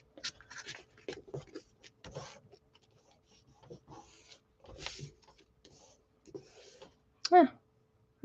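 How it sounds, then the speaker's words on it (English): Paper card being folded and creased by hand, with soft scratchy rubbing strokes in short bursts and a sharper crinkle near the end, close and fairly quiet. "Okay, so I'm folding again."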